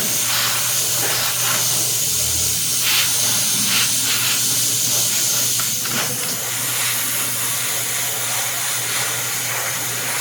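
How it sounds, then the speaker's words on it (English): Continuous hissing spray of an airbrush applying a wash to a quarter-scale Old Man He-Man figure, steady and close with small fluctuations in pressure and no voices. "I'll just kind of do some light additional treatment with this wash and the airbrush on it."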